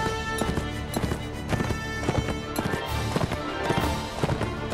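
Horses gallop in the medieval combat game Mount & Blade Warband, with a quick run of clip-clop hoofbeats at a steady, moderately loud level and occasional whinny-like tones over the game's background sound.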